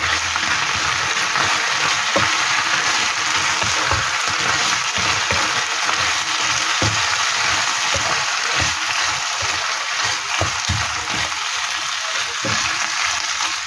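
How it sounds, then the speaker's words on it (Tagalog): Pork skin and chayote frying in a pan, with a loud steady sizzle throughout and repeated knocks and scrapes of a spatula stirring. "Haluin lang natin"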